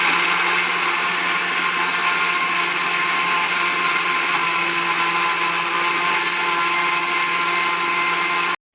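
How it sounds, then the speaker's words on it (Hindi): An electric grinder whirs steadily at high speed, grinding dried green chillies with salt in a loud, continuous buzz that runs the full length with no talking. "तो अब हम इनको ग्राइंड कर लेंगे।"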